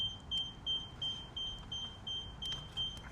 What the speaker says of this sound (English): You can hear the beeping, that'll stop in a minute.